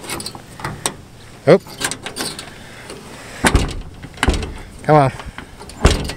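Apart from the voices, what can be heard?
door of an old S10 pickup truck being forced open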